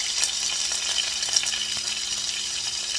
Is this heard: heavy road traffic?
no